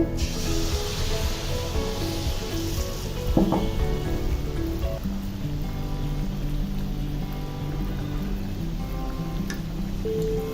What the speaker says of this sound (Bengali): তাতে পর্যাপ্ত তেল দিয়ে তেলটা গরম করে নিয়েছি এখন চুলাটা একটু মিডিয়ামে রেখে এখন আমি তালের যে ব্যাটারটা রেডি করে রেখেছি সেটা দিয়ে দিচ্ছি